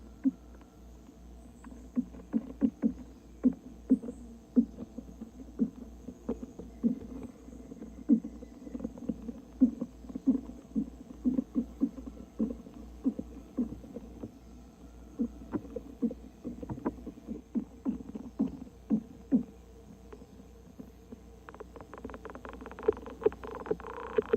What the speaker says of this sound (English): they communicate with vibrational signals that travel up and down the stems and leaves of their host plant